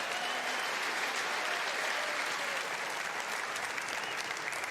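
A snooker crowd at a UK Championship final applauds a big pot with sustained, dense clapping that stays steady and moderately loud throughout, with no voices over it.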